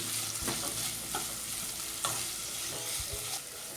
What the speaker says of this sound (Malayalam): ഇനി 2-3 മിനിറ്റ് മീഡിയം ഫ്ലെയിമിലിട്ടൊന്ന് സോട്ട് ചെയ്തെടുക്കാം